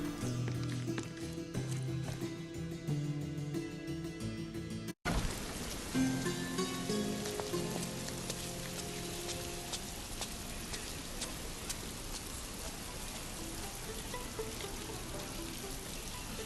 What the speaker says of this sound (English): I was gonna say, it sounded like it was starting to rain, but then I just realized, oh, there's a fountain over here.